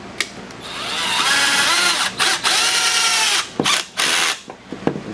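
A power drill driving 2.5-inch screws into a kitchen table leg, its motor whining up in long bursts, then stopping and restarting in short spurts, loud and close with no talk.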